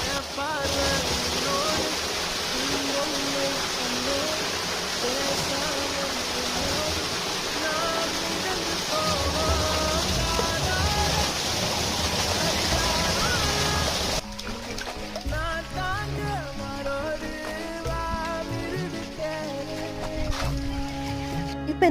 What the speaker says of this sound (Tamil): நெல்லிக்காவை நல்லா தண்ணியில் அலசி எடுத்துக்கலாம்.